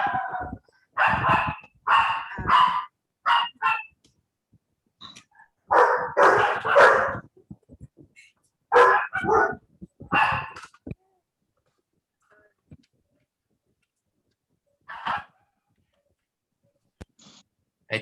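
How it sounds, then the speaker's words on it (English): A dog barks in repeated bursts of loud, close barks spread unevenly across the stretch, with quiet gaps between groups and a single later bark. "Now we can hear. The dog barking."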